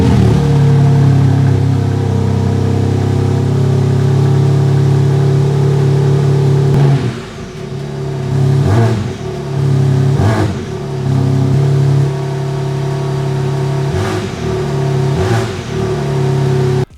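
A BMW G80 M3 with stock exhaust valves idles with a strong, steady low hum, then gives several light throttle blips at intervals, each a short rising rev, close and unaccompanied by talk.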